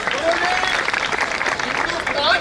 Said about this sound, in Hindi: एक बार यहाँ राष्ट्रीय तालियां बजा दीजिए।